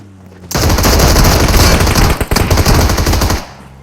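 Sustained, loud machine gun fire in a shooter video game, a dense rattling burst lasting about three seconds with a brief gap partway through, close and without talking.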